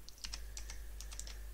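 Rapid, light keystrokes on a computer keyboard, about a dozen quick clicks in an uneven burst, close and quiet over a low steady hum.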